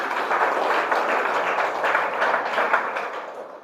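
An audience applauds loudly at a gathering, dense and continuous clapping that holds steady throughout with no talk.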